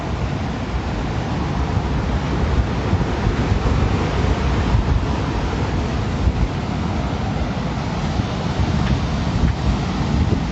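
Ocean waves wash continuously onto a Florida beach, a loud, broad roar heavily mixed with wind buffeting the microphone and no distinct breaks between surges.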